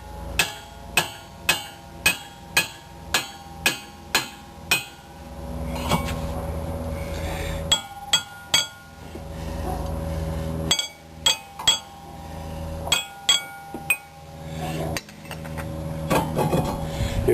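Repeated heavy metal blows ring out as a hammer beats a rust-seized rear brake rotor off a Mazda 6, struck in quick rhythmic bursts with short pauses, loud and close, with a metallic clang on each hit.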